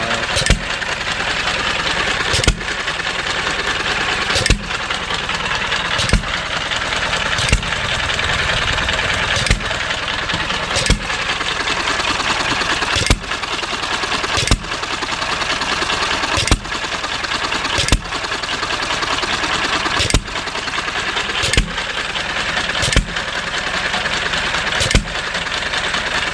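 A 2 horsepower upright stationary engine runs steadily close by, its sharp firing pops spaced at a slow, even hit-and-miss rhythm over a continuous mechanical drone, with no talk.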